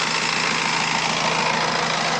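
A 2014 Honda Amaze 1.5 diesel idles nearby with a steady, even engine drone and a faint rhythmic knock, with no voices.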